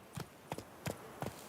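Horse hooves clip-clop at a steady trot in The Witcher 3 video game, four paired hoof strikes evenly spaced, fairly close and clear.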